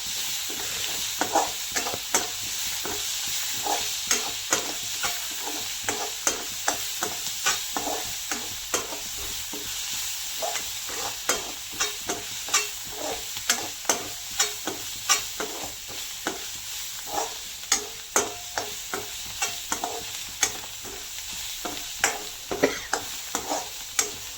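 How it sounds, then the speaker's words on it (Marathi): Onion and green chilli sauté in a pan under a soft, continuous sizzle, punctuated by regular spatula scrapes and taps that repeat roughly every second throughout. "कांद्यामध्ये चांगलं मिरची वगैरे परतून घ्यायची"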